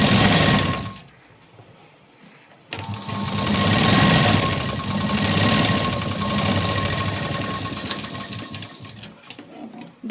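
A sewing machine runs close by while stitching a second line on a tuck in a katori blouse piece, whirring briefly, pausing, then sewing steadily for several seconds before slowing at the end.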